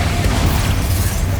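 A Confringo fire-blast spell erupts in Hogwarts Legacy, a loud, dense low boom that sustains through the whole moment amid combat noise, with no talking over it.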